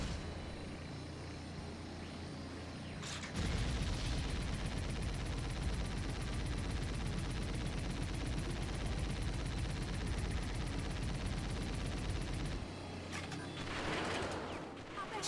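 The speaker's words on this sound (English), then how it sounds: "Just tossing rockets" Rockets fired in the 007 Nightfire game set off a sustained loud roaring barrage of rapid bursts lasting several seconds, then cutting off into a quieter background.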